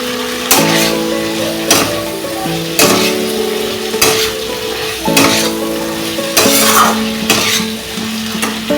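Fried potatoes tumble into a sizzling silver carp fish curry masala, with steady loud frying hiss, metal spoon scraping and clanking against the pan in a rhythmic stirring pattern, close up and without talk.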